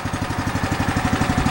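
A Toro snowblower engine that had sat for five years runs unchoked after repair, a close, steady small-engine putter with quick regular firing pulses and no voices.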